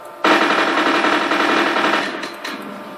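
A Scorpion vz. submachine gun fires a rapid continuous burst in Garry's Mod, a fast rattling stream of shots starting abruptly and trailing off after a couple of seconds.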